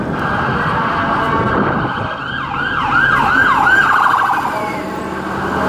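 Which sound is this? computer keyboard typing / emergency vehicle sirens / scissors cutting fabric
emergency vehicle sirens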